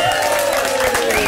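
A brief burst of audience applause at a music session, dense clapping mixed with crowd noise and a tonal voice-like sound in the room.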